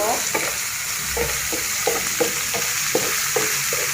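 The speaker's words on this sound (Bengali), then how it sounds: "এখন আমি ভালো করে নেড়ে দেব।" Turmeric and vegetables stirred in a frying pan, with a steady sizzle under regular scraping strokes of a spoon, roughly one every half second, close and fairly loud.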